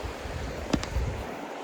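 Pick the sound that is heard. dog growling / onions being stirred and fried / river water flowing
river water flowing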